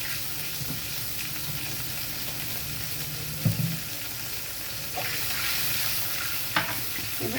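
Turmeric stirred into water, followed by more water, goes into a hot frying pan for a Bengali hariyali eggplant curry. A constant close sizzle runs throughout, with a few stirring clanks and bubbling surges.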